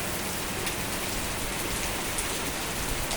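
Heavy rain keeps falling in a constant, close wash of patter and hiss on surfaces, even in level throughout and free of speech.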